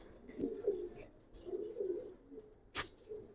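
Old-breed Giribaz pigeons in a loft in Old Dhaka give soft, low cooing calls, two or three rolling phrases close by and faint, with a short sharp click near the end.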